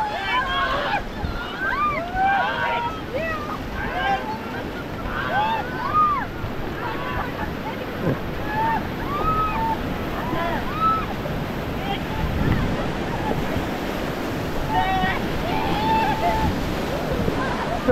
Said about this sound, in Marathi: नंतर बोट पुढे गेल्यानंतर प्रत्येकजण फास्ट चालवत होते.